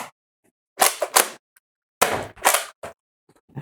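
A Nerf Tracer pistol blaster, a top-primed, magazine-fed foam dart pistol, fires twice. Each shot is a sharp, close pop-and-snap burst separated by a short pause, with quiet handling clicks in between.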